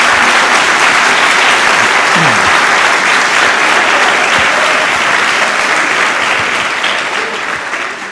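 A church congregation breaks into loud, dense applause during a sermon, the clapping steady and full throughout before tapering slightly near the end, with a faint voice briefly audible beneath.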